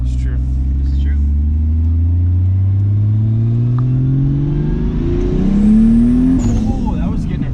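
A turbocharged Supra-engined truck pulls hard in first gear, its engine note climbing steadily in pitch as it accelerates, loud and close, with a sharper surge near the end.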